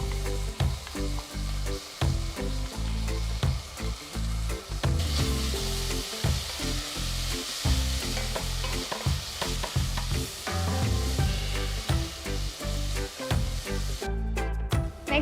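Ginger, garlic and green chilli paste sizzling in oil with golden-brown fried onions, a loud close fry with repeated rhythmic scraping and stirring strokes throughout, and no voices.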